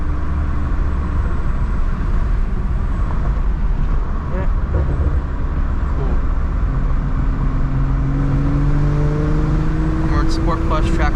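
A 2020 BMW M340i xDrive drives hard along curvy back roads, its engine a steady close drone with rising and falling tones as it pulls through bends, road and tire noise constant underneath, and a voice talks over it.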